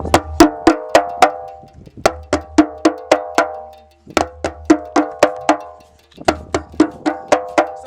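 Djembe strokes in quick pairs, deep bass thumps, ringing tones and sharp slaps, played in three short bursts with brief pauses between, close and loud.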